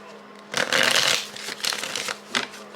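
Tarot cards being shuffled close by, a dense papery riffle and rustle that swells, fades and returns in short bursts, with a few sharp flicks near the end.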